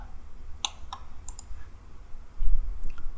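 A computer mouse gives a few faint, crisp clicks in quick succession during a CAD modelling session. The clicks sit over a low room hum with no talking.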